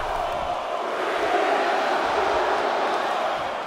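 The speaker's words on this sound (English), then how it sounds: "Listen to this crowd." Arena crowd in the WWE 2K22 wrestling video game during a Women's Royal Rumble match, a continuous roar of cheering and shouting at a steady, fairly loud level with no break.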